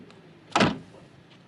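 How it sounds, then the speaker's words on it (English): Train doors close with a single short thud-like slam, close by, against a faint background rumble. "Close the doors."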